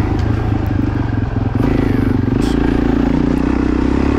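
A Suzuki DRZ400E dirt bike engine runs hard during a cross-country race. The loud, close engine drone is continuous, with slight surges and mechanical clatter throughout.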